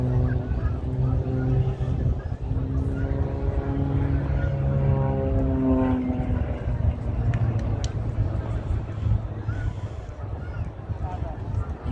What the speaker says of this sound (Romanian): Deci vă las să urmăriți acest avion.